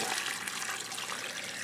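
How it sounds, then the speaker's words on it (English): Water runs steadily into a pot over beef bones to start a pho broth, a continuous broad rushing pour with no voices. "So I'm just going to cover this in water."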